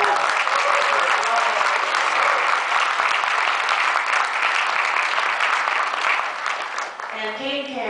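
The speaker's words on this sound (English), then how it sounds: "Give a huge round of applause" Sustained, dense applause from a cinema audience at a film noir screening fills the room, loud and steady before tapering off as a voice begins speaking at the end.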